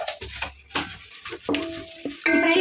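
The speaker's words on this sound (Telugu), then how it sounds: "మన నూనె వేడైపోయింది ఇప్పుడు ఎండుమిరపకాయలు అండి నేను ఒక 5 ఎండుమిరపకాయలు వేసుకుంటున్నాను ఒక స్పూన్ జీలకర్ర ఒక స్పూన్ ఆవాలండి" Dried red chillies, cumin and mustard seeds dropped into hot oil for a biryani tempering, giving short bursts of crackling sizzle and popping, close and fairly loud, with no talk.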